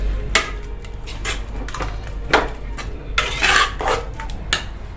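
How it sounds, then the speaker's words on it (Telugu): A spoon scrapes and knocks around a pot as a chicken haleem mixture is stirred, giving irregular metallic clinks and scrapes at close range with a low steady hum beneath. "నెక్స్ట్ ప్రాసెస్ బాగా కలయబెట్టాలి."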